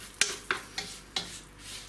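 Stirring in a coated frying pan while cooking for an almond sheet cake, with four distinct scraping strokes at a steady rhythm over a faint sizzle, close and clear with no talking.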